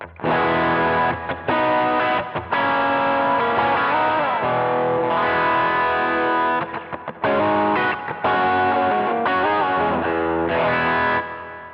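Electric guitar run through a Klon-style overdrive on a Line 6 Helix, a crunchy, driven basic rhythm tone with sustained chords and short gaps between phrases, loud and steady with no voices.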